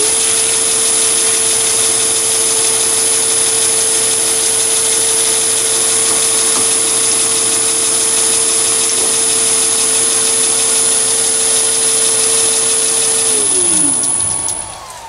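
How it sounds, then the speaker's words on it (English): A countersink bit drills into a brass door knob, producing a steady, loud high-pitched whine that runs unbroken for about thirteen seconds before winding down and stopping. "Next, a countersink."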